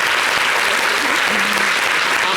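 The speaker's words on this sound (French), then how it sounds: "Nous avons Massal, qu'on va applaudir" A studio audience on a television talk show breaks into brisk, steady applause to welcome a guest, many hands clapping densely and close throughout the short burst.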